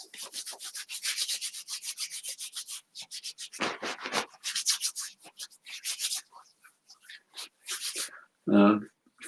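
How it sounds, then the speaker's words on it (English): Hands, including the backs, rub together briskly in close, repeated strokes with brief pauses, followed by a short louder thump near the end. "So rub your hands together, the backs of your hands."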